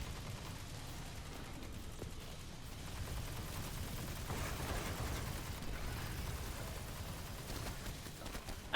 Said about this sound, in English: it's got guns, turret guns that also shoot at you